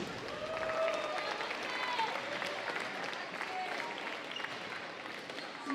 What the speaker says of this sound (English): Let's give both players another huge round of applause